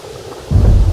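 A sudden loud rumble of thunder bursts in after a moment of quieter rain, deep and booming, with rainfall beneath.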